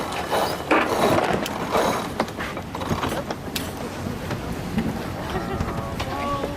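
A sailboat winch is cranked in while sailing hard to windward, giving a run of fast clicking ratchet sounds close to the microphone, mixed with wind and water noise and a few voices.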